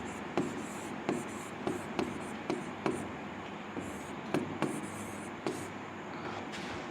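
A marker or chalk scratches across a classroom board in short repeated strokes with sharp taps, steady and close.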